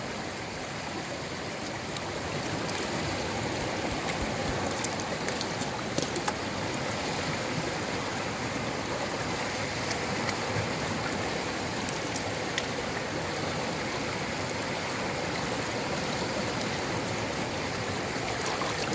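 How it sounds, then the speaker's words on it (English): Fast-flowing stream at a gold prospecting spot, a loud, steady broadband rush of water current filling the scene without pause. "The water's got a crazy current right now."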